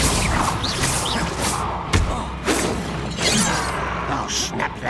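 Bombarda blast spells going off in Hogwarts Legacy, a string of sharp booming impacts with crashing debris amid busy combat noise, with a man calling out spell names over the action.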